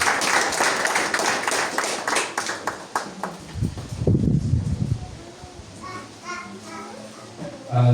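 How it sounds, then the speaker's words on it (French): A church congregation at a Sunday service claps together in a burst of rapid, dense applause that thins into scattered claps, with voices and a child's speech mixed in. "On applaudit le Saint-Esprit dans la vie."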